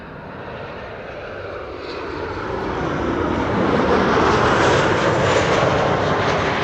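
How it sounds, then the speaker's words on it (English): A Boeing 777-300 airliner arriving from Vancouver roars in as a broad, steady engine rumble that swells louder over several seconds, filling the air with no voices. "And a 777-300 arriving from Vancouver,"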